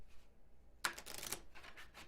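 A deck of playing cards is shuffled during a solo tabletop game session, a sudden crisp burst of riffling and flicking after a quiet start, then softer shuffling sounds trailing off, close and without talk.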